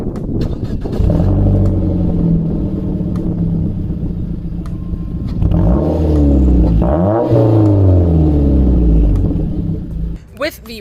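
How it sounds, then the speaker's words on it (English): A Mazda 3 with a Corksport aftermarket catback exhaust and race pipe rumbles loudly and close, the engine revving up and settling back down a couple of times, ending with a few clatters. "I've got a Corksport aftermarket catback exhaust."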